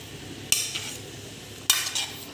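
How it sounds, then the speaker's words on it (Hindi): Boiled peas are stirred into masala in a pan: two sharp spoon scrapes against the metal over a soft, low background. "लास्ट में मटर डाल देंगे और मसाले में अच्छी तरह से मिक्स कर देंगे इसको।"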